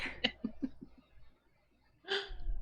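A single sneeze, short and close, following a few soft breaths and sniffs.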